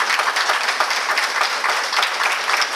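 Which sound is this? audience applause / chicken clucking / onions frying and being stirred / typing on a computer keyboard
audience applause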